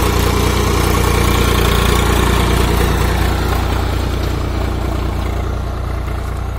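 A Swaraj 744 XT 52 hp tractor engine runs loudly and steadily throughout while sowing groundnuts, a deep continuous rumble with constant vibration, close by and alone with no voices.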